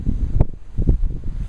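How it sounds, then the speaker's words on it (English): Gusty outdoor wind in a winter garden on a 41-degree day, winds around 15 mph with gusts to 25, buffets the microphone in low rumbling bursts that rise and fall every half second or so. "windy. Winds running 15 miles an hour with gusts as high as 25"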